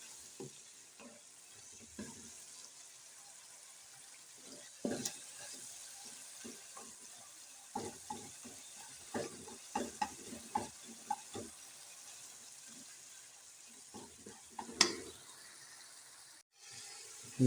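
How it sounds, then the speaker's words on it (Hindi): Masala for chana dal sizzles softly in a pan while being stirred, giving a quiet, steady frying hiss broken by irregular scraping and clinking from the spoon, with no voices. "अब इसका मसाला भी तैयार हो रहा है।"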